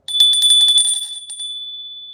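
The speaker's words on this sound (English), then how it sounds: "I am going to ring in the bell" A bell struck to open a livestream gives a bright, close ringing with rapid repeated strikes for about a second, then a long clear tone that fades out alone.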